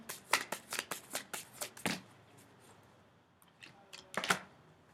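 Tarot cards are shuffled by hand in quick riffling bursts during the first two seconds, with one more brief burst near the end, close and clear with no voice.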